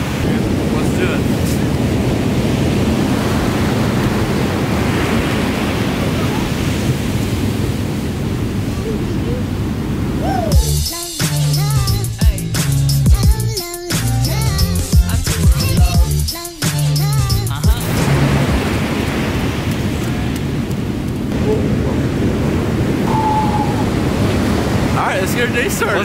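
Ocean surf rolls continuously at a San Diego beach, a loud broadband wash buffeted by heavy wind noise on the microphone, with a stretch of splashing and clattering movement through the middle.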